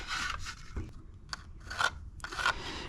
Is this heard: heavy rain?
no